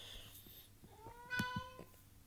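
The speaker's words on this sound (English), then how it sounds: "just ignore the cat. That's my mom's cat slash dad's cat. Wanting attention." A house cat meows for attention indoors, with two or three clear, close meows in the middle of a short stretch of quiet room noise.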